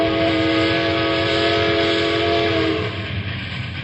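A train rumbles along steadily while a long multi-tone horn blares over it, cutting off near the end as the rolling noise continues.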